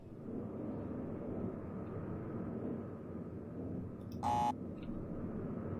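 A short electronic beep from a painting in the video game realMyst: Masterpiece Edition, one brief buzzy tone lasting about a quarter second over a low ambient hum, otherwise quiet.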